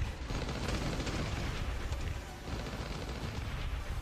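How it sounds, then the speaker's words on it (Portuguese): A grenade launcher fires in the survival game Last Day on Earth, producing a dense, continuous rumble of blasts and explosions that stays loud throughout. "Lança granadas ali"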